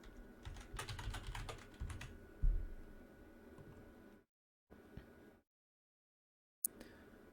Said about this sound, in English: So here, just type in the game that you want to give them.